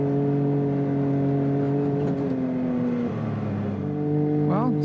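UTV desert racing vehicle with a freshly fitted front differential, heard from onboard as a steady, sustained engine drone with gear changes partway through and a brief rising whir near the end.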